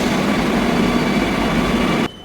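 A Kochi metro train runs with a loud, steady rumble and hiss that cuts off abruptly near the end, leaving a quieter background.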